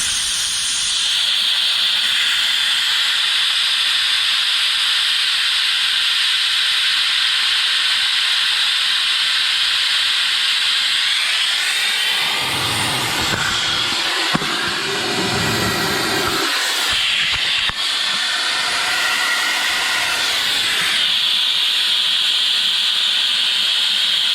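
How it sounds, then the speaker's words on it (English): A vacuum coolant filler pulls air from the cooling system of a 2019 BMW X3 with a 2.0L turbo engine: a steady loud hiss through a fitting, briefly changing to a rougher rushing sound midway before settling back. "this is going to pull a vacuum, pull all the air out of the system"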